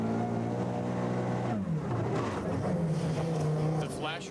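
An Audi rally car drives a slippery, snowy stage in the 1993 Canadian Rally Championship, its engine droning hard and dropping in pitch before pulling strongly again, while a commentator talks over it.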